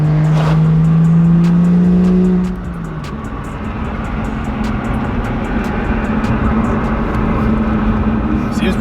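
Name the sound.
BMW M2 car driving over bumps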